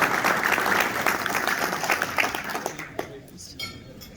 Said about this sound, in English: Can we get a round of applause for sponsors?